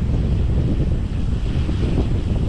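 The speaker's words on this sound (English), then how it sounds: "Wind's still blowing." Wind blowing on a bike trail in Minnesota, a loud, steady low roar and buffeting rumble across the microphone that persists throughout, with no talking.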